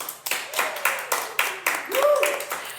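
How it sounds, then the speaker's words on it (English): Several soft, light claps made with the fingertips, spaced roughly evenly, close and quiet, with people talking over them. "I got a clap with fingertips."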